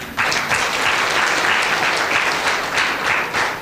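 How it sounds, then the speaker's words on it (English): A conference audience at a leadership conclave breaks into sustained clapping, a dense, even wash of many hands that starts abruptly and holds steady at full volume. "I just want everybody to clap for yourself"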